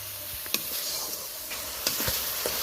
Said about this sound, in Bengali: গুঁড়ো মশলাটা বেশ ভালো করে কষিয়ে নেব, তেল ছাড়া পর্যন্ত অপেক্ষা করব